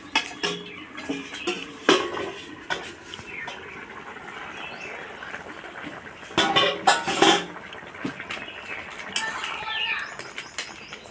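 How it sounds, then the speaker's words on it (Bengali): A metal lid lifted off a cooking pot in a home kitchen where vegetarian jackfruit curry cooks, with scattered clinks and clatters of metal cookware repeating through a steady background hiss. "এবার আমি ঢাকাটা তুলে দিচ্ছি, দেখি।"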